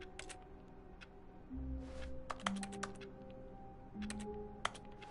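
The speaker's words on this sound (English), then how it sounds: "Why does it sound like I'm typing on a keyboard?" Rapid, irregular clicks of typing on a computer keyboard, heard during play of The Stanley Parable: Ultra Deluxe, with a soft low hum beneath and a few sharper keystrokes standing out.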